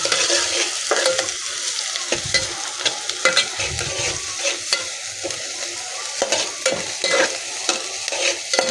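Onion frying in a pan until lightly golden, for a masoor dal, gives a close, lively sizzle broken by repeated scraping stirs, with no talk.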